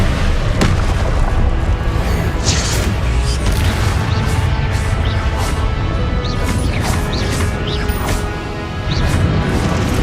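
Confringo spell blasts in the Hogwarts Legacy video game, a dense barrage of booming explosions and crashes that runs nonstop and loud across the clip, with a voice casting spells in the mix.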